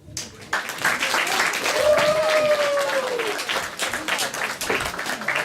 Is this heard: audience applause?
yes